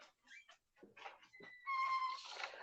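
A dog in a home room gives a few faint whimpering, whining sounds, then a brief higher-pitched sustained whine, quiet and close.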